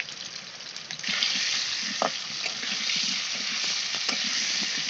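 Papaya and potato pieces sizzle steadily in hot oil in a village kitchen pan, with a spatula scraping and tossing them in a few soft strokes, close and continuous.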